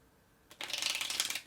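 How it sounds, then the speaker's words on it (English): Playing cards riffled in a quick false shuffle, a short close flurry of crisp fluttering clicks after a single tap, faint and alone. "This is the point where I would start doing the false shuffles"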